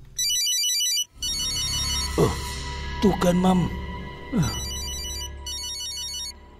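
Mobile phone ringtone in a cartoon, a bright electronic melody playing in short bursts at the start and end, with voices talking and a few sharp effects in between.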